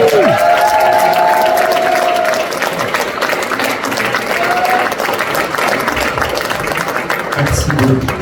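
Concert audience applauding and cheering, a loud continuous wash of clapping and crowd noise with a voice briefly audible at the start.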